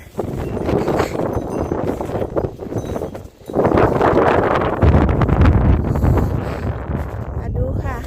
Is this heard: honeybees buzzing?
no